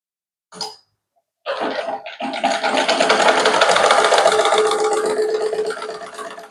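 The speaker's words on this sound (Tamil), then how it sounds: "இதுக்கு மேலே இன்னொரு தையல் போடணும்." A sewing machine stitches a blouse: a short burst of running near the start, a pause, then a close, steady mechanical whir that runs without a break for about five seconds.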